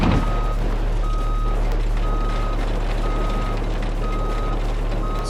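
A truck's reversing alarm in the BeamNG driving game beeps in steady, evenly spaced tones over a loud, constant low engine drone, with no talk.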